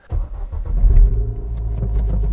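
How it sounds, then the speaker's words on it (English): A Ford Fiesta ST with stage 2 tuning starts up close by: a quick crank catches into a loud engine roar, then settles into a deep, steady idle rumble. "Let's start the car and hope there is no warning lights or anything like that."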